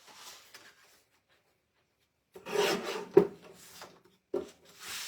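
Scrapbook paper being cut with a few rasping, scraping strokes, quiet and close, a short burst near the start and several stronger rubbing passes later, with brief pauses between.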